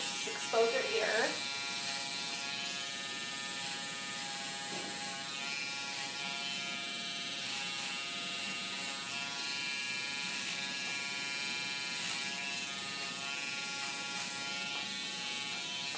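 Electric hair clipper fitted with a number 4 guard cutting a woman's hair on the sides, a steady close buzzing motor hum running throughout with a brief handling clatter near the start.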